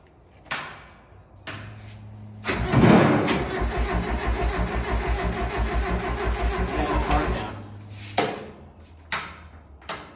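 A Mazda Miata engine fitted in a go kart and running on E85 cranks over for about five seconds with a steady pulsing starter rhythm. It fails to catch, and a few short clunks can be heard before and after.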